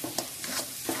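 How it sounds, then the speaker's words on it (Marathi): Chopped pav bhaji vegetables are stirred into spicy frying masala in a pan: a few quick scraping strokes over a soft, steady sizzle, close up with no talking. "आता आपण छान हलवून घेऊ"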